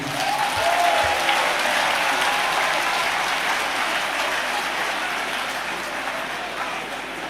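Sustained audience applause at a 2022 ICAN event in Nigeria, a dense wash of many hands clapping that stays loud and steady throughout before easing slightly near the end.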